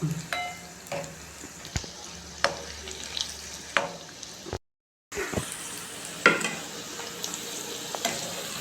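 Pieces of egg 65, an egg snack, fry in hot oil with a steady close sizzle, broken by stirring clatters and a brief silent gap.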